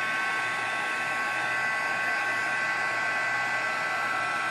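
A heat tool blows steadily and loudly while melting embossing powder on stamped paper, a continuous even whoosh with no pauses and no talk.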